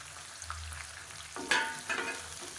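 Small whole onions, garlic cloves and curry leaves dropped into hot oil for a spicy kulambu, a quiet low rumble at first, then a sudden bright sizzle that keeps crackling softly as the pan is stirred.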